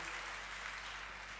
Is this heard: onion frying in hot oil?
no